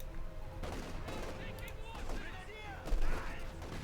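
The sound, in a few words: bolt-action rifle fire in Company of Heroes 2 video game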